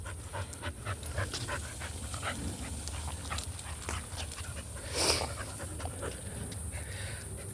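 A dog pants quickly and rhythmically at close range, with a few soft whimpers mixed in.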